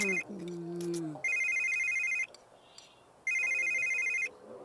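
Two loud electronic ring bursts from a telephone in The Sims 3, each about a second long with a pause between, preceded by brief tonal game sounds and faint background noise.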